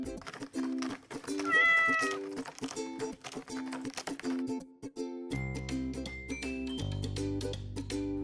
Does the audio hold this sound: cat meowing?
yes